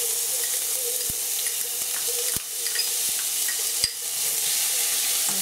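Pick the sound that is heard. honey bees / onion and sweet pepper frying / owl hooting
onion and sweet pepper frying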